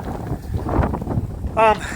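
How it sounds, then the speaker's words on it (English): Steady wind buffeting an outdoor microphone at an air-rifle shooting range, broadband rumble throughout with a brief tonal beep near the end. "A little windy out here"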